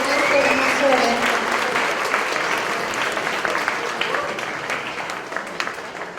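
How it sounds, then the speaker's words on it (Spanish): An audience claps at the close of an academic lecture on the modern state and the Mexican Revolution, loud at first then gradually thinning. A voice briefly speaks over the start of the applause. "Fuerte el aplauso, muchachos"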